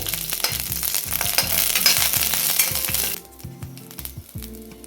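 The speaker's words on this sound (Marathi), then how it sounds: "यामध्येच आता ह्या मिरच्या आपल्याला परतून घ्यायच्या" Green chillies sautéing in hot oil in a kadhai, a loud crackling sizzle under rhythmic metallic scrapes and clinks of a spatula that drop sharply after about three seconds to quieter stirring.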